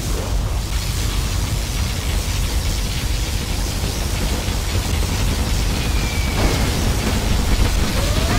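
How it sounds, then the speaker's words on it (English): In Command & Conquer Generals Zero Hour, a particle cannon fires and explodes, producing a loud, continuous rushing roar with booming, noisy blasts that swell slightly toward the end and are heard alone. "Our particle cannon has been activated."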